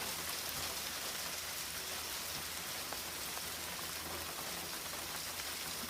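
Hail or snow pellets pattering steadily outdoors on a sunny spring day, a dense, even hiss of small impacts that runs unbroken and fairly loud throughout, with no voices.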